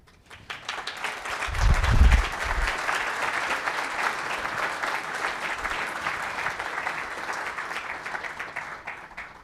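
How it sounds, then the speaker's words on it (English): Sustained audience applause fills a conference hall after a talk on TinyGo for pet automation, a dense steady clatter of many hands that swells quickly, peaks early, then holds at a slightly lower level to the end, with no voices over it. "Second round of applause."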